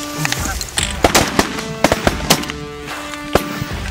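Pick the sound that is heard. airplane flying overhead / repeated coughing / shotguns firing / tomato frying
shotguns firing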